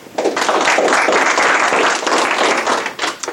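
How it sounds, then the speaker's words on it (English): Audience applause after a trance or hypnosis session: a dense, steady wash of many hands clapping that holds at full strength for about three seconds before thinning slightly at the end, with no talking. "Now, give a big round of applause."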